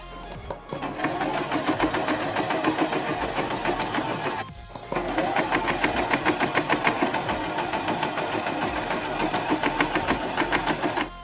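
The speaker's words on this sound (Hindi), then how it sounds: "इस तरह से पलटने के बाद हम अपने गले पर यहाँ पर एक सिलाई लगाएंगे।" An electric sewing machine stitches a frill onto a round neckline in a steady rapid run, pauses briefly midway, then resumes at the same close, even pace.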